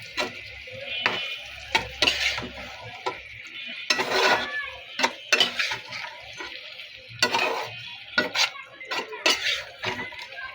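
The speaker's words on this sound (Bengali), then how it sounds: "লাউগুলি এখন নেড়ে চেড়ে মিশিয়ে নিব।" Bottle gourd, boiled first, stirred into prawns in a pan. A utensil scrapes and clatters in uneven bursts, some loud and some soft, with faint cooking noise underneath and no one talking.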